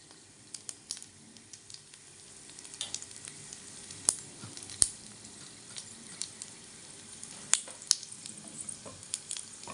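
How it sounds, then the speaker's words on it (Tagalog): Dried squid sizzles and crackles steadily in hot frying oil in a pan, with sharp pops and spits breaking through the constant hiss from start to finish, close up and with no voices. "prito tayo ng tuyo."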